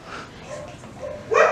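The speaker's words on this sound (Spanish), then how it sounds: "No tanto los ladridos del perro, es lo que más escuchaba." A dog barks and whimpers nearby in short, fairly loud yips, ending in one stronger bark.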